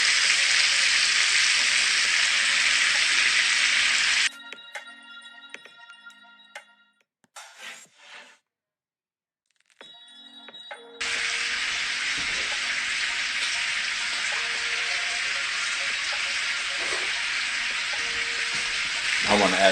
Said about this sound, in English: We're going to throw our onions on.